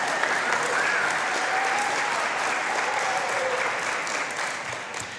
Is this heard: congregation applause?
yes